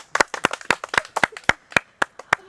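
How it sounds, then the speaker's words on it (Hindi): Steady rhythmic hand clapping, roughly a dozen sharp claps at an even pace, close by with no talking. "तालियां बजा"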